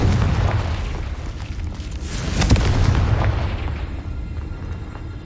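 A Confringo fire spell from Hogwarts Legacy bursts in a booming explosion, with a sharp crack near the middle and a rumbling roar that fades away.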